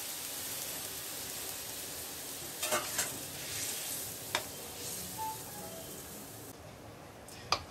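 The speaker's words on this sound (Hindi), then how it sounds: "अब जैसा कि ये हल्का सा बॉईल होने लगा है" Tomato soup made from tomato juice starting to simmer in a pan while being stirred, a steady close sizzling bubble with a few sharper scraping clinks of the spoon against the pot.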